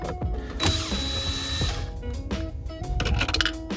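Screws being turned out of the radio trim bezel on a Jeep ZJ, giving close, quiet metallic clicking and ratcheting with light handling noise, no talk.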